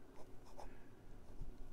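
A 1946 Parker 51 Vacumatic fountain pen with a 14 karat gold fine nib scratches softly across Clairefontaine 90 GSM paper in short, close strokes, quiet and alone.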